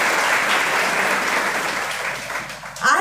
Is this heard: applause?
yes